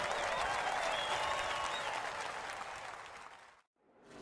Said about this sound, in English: Let's give these brave men and women a round of applause.